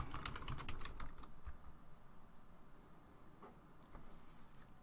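A password is typed on a computer keyboard as a quick flurry of close, crisp key clicks, followed by a few scattered taps, faint overall against a quiet room with no talking.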